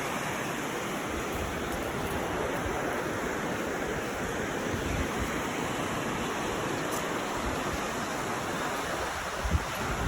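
Ocean waves break along a beach in a continuous, even wash of surf, steady and moderately distant, with no voices.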